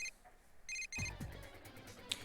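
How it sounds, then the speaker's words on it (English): A phone ringtone from the video game Persona 4 Golden chimes in short bright tonal bursts, three quick repeated beeps, followed by low thuds and a soft game background, fairly quiet with no talking. "My phone ring changed."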